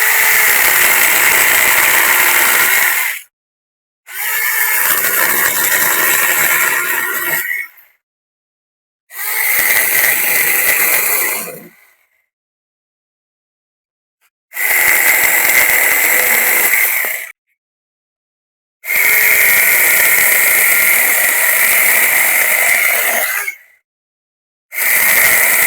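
Cheap battery-powered chainsaw cutting through green guava tree wood, five loud bursts of buzzing motor and chewing cut, each a few seconds long, separated by short silences.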